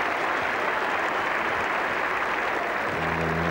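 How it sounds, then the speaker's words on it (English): Cricket crowd at a 1985 England v Australia Ashes Test applauding a 250 partnership, steady dense clapping that fills the whole stretch, with a faint voice entering at the very end. "And applause there for the 250 partnership."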